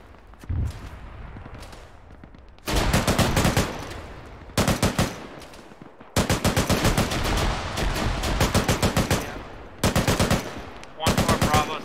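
Long, loud bursts of automatic machine gun fire in the military shooter game Arma 3, separated by short pauses, with a faint thump near the start.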